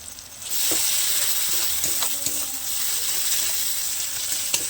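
Papaya sizzles and hisses steadily in a hot pan with ground cumin and spices, loud and close, with occasional scraping clicks as it is stirred and no one speaking.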